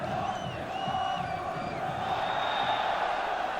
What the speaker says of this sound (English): the only people you can hear now are the Manchester United fans